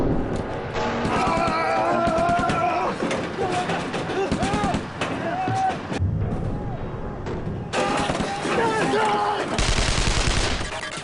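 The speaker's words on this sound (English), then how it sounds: "The tanks hose each other with machine gun fire to wipe the enemy off." Tanks exchanging machine gun fire in a battle in Korea, dense rapid bursts and crackling shots with booms, heard under a narrating voice throughout.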